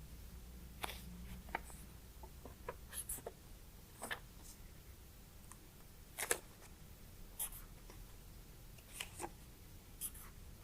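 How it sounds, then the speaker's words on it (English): Marker or pen strokes writing the letter V on a sticky note: scattered short scratchy strokes and taps, close and quiet, over a low steady background hum. "On this one, I'm going to write the V."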